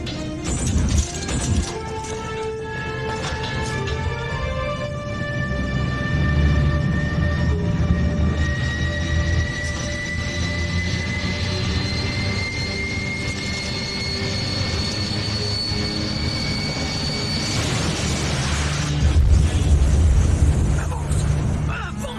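A crash in a French animated series: a sustained rumbling, rattling impact with rising whistling tones and crashing debris, loud and continuous for over twenty seconds, with voices briefly heard over it.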